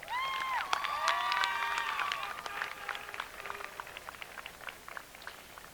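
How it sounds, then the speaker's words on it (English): Audience at a 2017 high school graduation ceremony applauds, a scattered crowd clapping with some whistles or cheers early on, fading into lighter claps toward the end, heard from a distance in a large space. "Can we give him another round of applause?"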